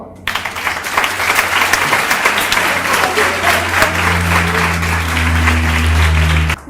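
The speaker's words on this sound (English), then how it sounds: "Let's give them another clap." Audience applause for scouts at a graduation ceremony: dense, loud, sustained clapping filling the space, with a low steady hum underneath and no speech over it.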